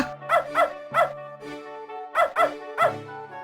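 A dog paddling in a lake in the video game Beneath A Steel Sky barks and yips in two quick bursts of three, close and clear, with brief whimpering tones in between.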